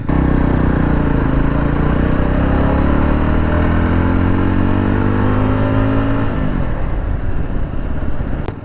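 A 2025 Yezdi Roadster cruiser motorcycle's engine pulls hard under acceleration, its loud, close drone climbing steadily in pitch, then dropping sharply as the rider shifts or backs off near the end.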